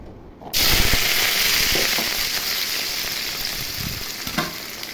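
Onion greens and a dried chili sizzle and fry steadily in hot oil, a dense continuous hiss starting abruptly and staying loud and close with occasional stirring clatters.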